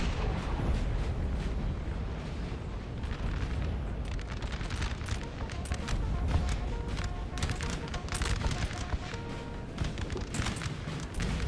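Artillery cannons in Napoleon: Total War pound across a busy battlefield, with dense overlapping booms and musket crackle forming a steady loud din and no clear gaps.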